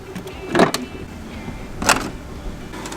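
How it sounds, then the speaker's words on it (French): A car boot is shut, giving two distinct clunks about a second apart, with a quiet idling background between them. "Je referme le coffre"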